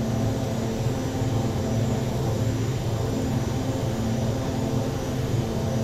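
A Douglas World Cruiser biplane flying in a flight simulator game gives off a constant, loud engine and propeller drone that holds steady from start to finish with no talking.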